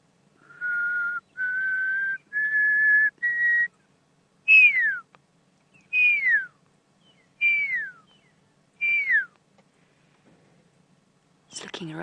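A pearl-spotted owl whistles on a safari drive at sunset: a run of four steady, rising whistled notes, then four louder descending slurred notes, clear and fairly close, alone against a quiet background.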